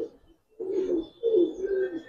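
Giribaz high-flyer pigeons, including a new kaldom chuithal pair, give low rolling coos in two swelling bursts after a brief pause, close and moderately loud with no voices.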